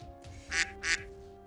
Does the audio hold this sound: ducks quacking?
yes